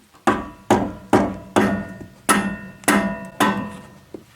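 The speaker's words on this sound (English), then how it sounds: "Might need a hammer for this one. I'm going to go with the rubber variety this time" Rubber mallet striking a BMW E34 brake caliper carrier to knock it loose, eight sharp, close, ringing knocks at a steady, slightly uneven pace, each fading quickly, with no talking.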